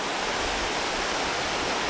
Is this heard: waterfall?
yes